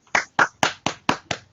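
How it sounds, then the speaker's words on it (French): Six separate claps, loud and evenly spaced, from a small group of hands applauding a perfect answer on a French television quiz show, with no voices over them. "Ça s'applaudit, une réponse parfaite"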